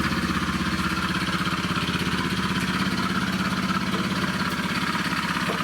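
A Honda Vision 110 scooter engine idles steadily up close, a rapid even putter with a faint rattling undertone, an abnormal noise from the left side, that never changes pace.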